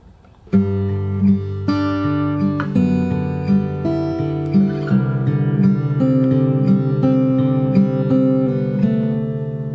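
An acoustic guitar plays a fingerstyle intro: a steady, gently arpeggiated pattern of plucked notes over a low bass line, close and clear with no voice.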